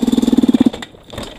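Motorcycle engine fitted with a Keihin PWK 36 carburetor runs with a rapid, even pulsing beat for about half a second, then cuts out and stalls at low RPM, leaving a faint, uneven rumble behind.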